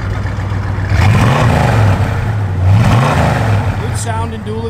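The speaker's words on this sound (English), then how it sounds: "Good sound and dual exhaust system in it." A 1974 Plymouth Duster V8 with dual exhaust revs up twice, each throaty rise and fall close and loud, settling back to idle between blips, with a voice briefly heard near the end.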